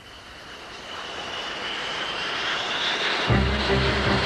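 Steady roar of military aircraft engines growing louder over several seconds, with a deeper rumble kicking in near the end.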